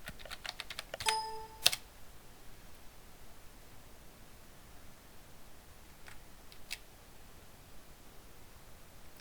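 Typing a command on a computer keyboard: a quick burst of several key clicks, then a couple of isolated keystrokes later, faint and close over a steady background hiss.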